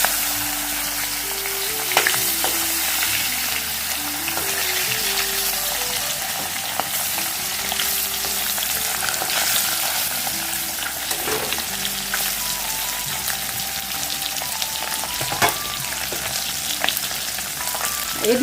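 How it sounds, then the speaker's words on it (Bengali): Lata (snakehead) fish frying in hot oil for a mustard-seed, curry-leaf and tomato recipe, a steady close crackling sizzle that runs unbroken throughout with occasional sharper pops and no talk. "এদিকে মাছগুলো ভাজা হতে থাক"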